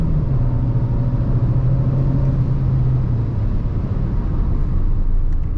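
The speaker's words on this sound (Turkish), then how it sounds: "Bir şöyle bir hızlanalım. Şurada da viraj var. Gaza bakıyor, basıyorum." A Dacia Duster SUV with a 1.3 150HP engine and EDC gearbox accelerates on the road, a loud, steady engine drone rising in pitch inside the cabin, with road rumble underneath.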